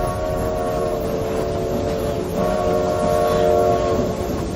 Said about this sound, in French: Au loin, des volutes de fumée arrivent à toute vitesse dans un bruit de ferraille.